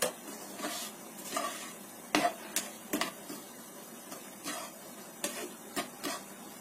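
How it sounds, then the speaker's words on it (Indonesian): Cookie dough stirred in a pan over low heat, a run of soft, irregular scraping strokes and light taps from the spatula against the pan over a faint hiss, close and quiet, no talk. "Ini sambil kita aduk terus supaya nggak gosong ya"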